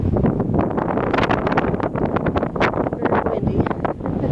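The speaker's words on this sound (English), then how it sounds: "Very windy." Strong wind buffets the microphone at a high lookout in Yellowstone National Park, with continuous loud, gusty roaring and rumbling throughout and no clear speech.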